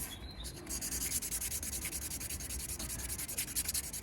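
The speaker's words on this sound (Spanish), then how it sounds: "humedecemos la lija también y vamos a ir lijando" Wet sandpaper rubs steadily across a button edge, giving a continuous close-up scratchy rasp with quick repeated strokes and no talking.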